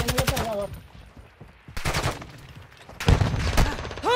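Rapid automatic gunfire in the Call of Duty DMZ shooter comes in three close, loud bursts separated by short pauses, with voices speaking between and over the shots.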